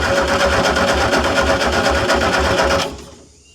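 An old VW fire truck engine, unused for over twenty years with only 86 hours on it, cranks on choke in a loud, close, rhythmic starter churn for about three seconds before abruptly cutting off.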